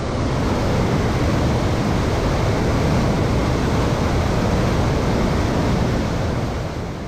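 Roaring water at the Rhine Falls, Europe's largest waterfall, fills the air with a loud, steady broadband rush that stays constant and close throughout, with no voices.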